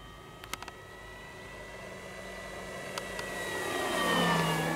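A giant 2000mm Carbon-Z T-28 Trojan RC plane on a 6S setup flies past on its maiden flight, its motor a steady drone that swells louder toward the end as it nears, with faint clicks early on.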